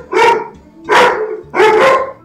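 A dog barks three times in loud, close, evenly spaced barks, with short pauses between them and no other sound.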